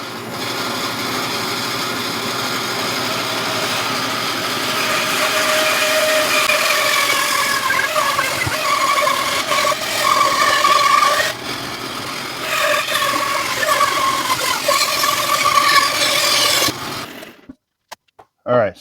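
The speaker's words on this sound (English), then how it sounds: "let's go get this cut out at the bandsaw" A bandsaw cuts a wooden piece with a continuous whirring rasp that rises and shifts as the blade works through the wood, then the sound cuts off abruptly near the end.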